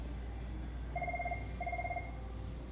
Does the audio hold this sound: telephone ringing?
yes